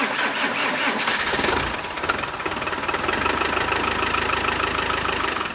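Land Rover Defender engine cranking and catching roughly, a loud burst of starter noise giving way to an uneven, knocking idle that settles into a steady rumble.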